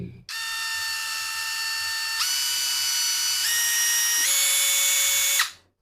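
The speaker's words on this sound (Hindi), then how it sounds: "जैसे जैसे आप ट्रिगर दबाते जाएंगे स्पीड तेज होती जाएगी।" A PUMPKIN 1/2-inch cordless electric impact wrench runs continuously with a high whining motor, its pitch rising in distinct steps as the speed is increased, loud and close, then stops abruptly.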